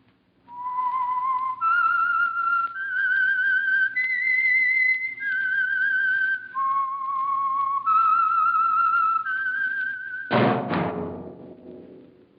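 A lone whistled melody, the theme of the 1946 radio drama The Whistler on the Signal Oil Program, carried in clear sustained notes for about ten seconds, then cut off by a sharp, resonant thump.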